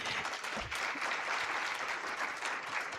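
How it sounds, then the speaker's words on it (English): Steady, dense applause from a summit audience welcoming a professor, loud and continuous for the full three seconds with no speech over it. "Karibu sana, Prof, and you get a special clap."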